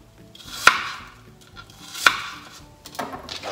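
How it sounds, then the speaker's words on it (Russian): A knife chops apples into eight large pieces on a cutting board, giving two sharp, distinct knocks about a second and a half apart, followed by a softer cut, close up and with no talking. "яблоки я буду резать на, вот так, на 8 частей"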